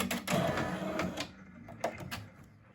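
A Brother PR655 embroidery machine stitching, giving a quick run of rapid mechanical clatter that fades, then a few short taps, close and moderately quiet.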